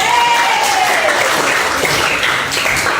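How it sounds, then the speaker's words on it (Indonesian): Steady applause from a group fills the whole moment, dense and continuous, with a faint high tone sliding downward near the start. "Tepuk tangan dong."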